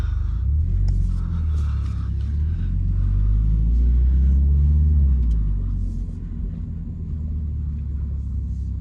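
A 2024 Toyota GR86 with an automatic gearbox pulling away and driving on, heard from inside as a loud, steady low engine and road rumble that eases slightly toward the end.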